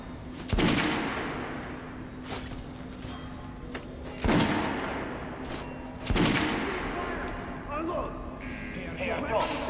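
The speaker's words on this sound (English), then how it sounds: "Head over to my range and try out those guns" Gunshots at a shooting range in the video game Metro Last Light: three loud, sharp reports spaced a couple of seconds apart, each with a ringing tail, along with a steady tone and quieter game sounds in between.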